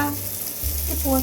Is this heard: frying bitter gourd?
yes